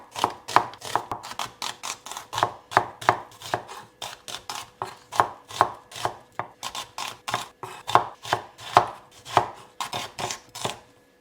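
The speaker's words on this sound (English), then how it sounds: "I'm taking 2 good sized onions and I'm just going to thinly slice these" A knife thinly slices two large onions on a board: a steady, rapid run of crisp, close chopping strokes with brief pauses between bursts.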